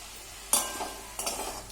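Bitter gourd frying with cumin seeds as it is stirred, giving two short scraping stirs over a faint, low sizzle in a quiet kitchen.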